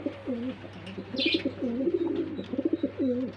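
Pigeons on a breeding farm coo steadily and up close, a run of soft rolling low calls repeating through the clip, with a brief higher chirp near the middle and no talk.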